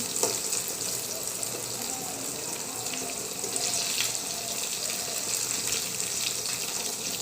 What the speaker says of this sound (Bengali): এই বেগুনটা ভাজি হয়ে গেছে, এটা নামিয়ে ফেলবো।